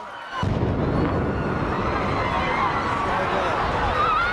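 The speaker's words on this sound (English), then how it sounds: "In the chaos, listen for the second explosion" A bomb blasts at the Boston Marathon finish line, a sudden loud burst followed by a sustained roar of noise and crowd commotion.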